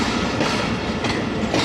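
Fareed Express passenger train rolling along rails, a steady loud rumble with rhythmic clacking of wheels over track joints, continuous and close throughout.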